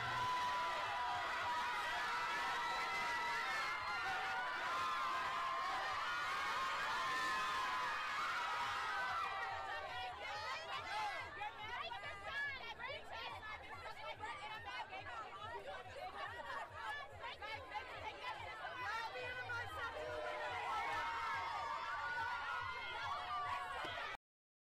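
Crowd gathered around a women's rights activist at an outdoor Pride event, a loud, continuous hubbub of many voices with chatter, shouts and occasional laughter, persisting throughout with no break.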